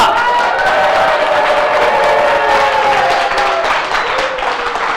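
A crowd at a business presentation about sanitary pads claps and cheers together in a dense, continuous wash of applause that stays loud and even throughout, with an indistinct murmur of voices mixed in.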